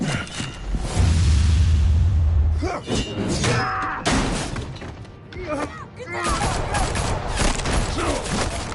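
Gunfire and crashing impacts ring out in the video game Batman: Arkham, a dense burst of shots and shattering mixed with whooshes, thuds and overlapping voices.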